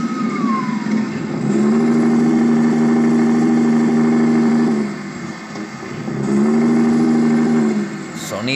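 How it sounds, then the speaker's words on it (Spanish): Bus engine in Bus Simulator Indonesia starting up and idling with a steady hum, rising twice to a louder revving drone before settling back, someone talking over it. "Sonido de motor."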